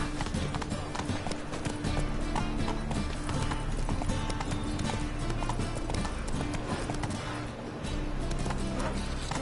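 A horse gallops in The Witcher 3, its hooves making a steady, rhythmic clip-clop that carries on through the whole stretch under dense, continuous in-game sound.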